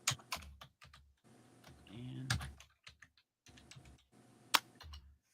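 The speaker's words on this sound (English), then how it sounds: "busily typing in here" Quick, uneven clicks come from keys being typed on a computer keyboard, in close, crisp bursts separated by short pauses, with a faint murmur in the background.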